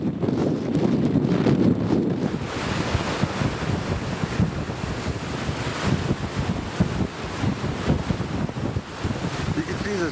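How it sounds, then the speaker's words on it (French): Storm waves pound the coast at Shishmaref, Alaska, a constant heavy roar of surf mixed with gusting wind buffeting the microphone, loud and unbroken throughout, with no voices. "Ces vagues qui frappent les côtes ne sont plus arrêtées par la banquise"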